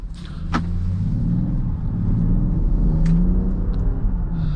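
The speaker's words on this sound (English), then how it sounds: "I like the inline-6 sound" An inline-six engine in a 2024 Land Rover Defender 130 SUV drones steadily from inside the cabin, a low continuous rumble that builds slightly as the vehicle pulls away, with a couple of faint clicks.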